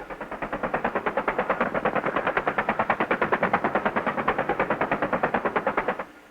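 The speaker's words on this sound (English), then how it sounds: "The Cobras often shoot into suspected defensive positions to draw fire and reveal the enemy." A U.S. Marine Bell AH-1 Sea Cobra attack helicopter gunship fires a long, unbroken burst of rapid automatic gunfire. The loud, evenly spaced rounds run for about six seconds, then stop abruptly. No voices are heard.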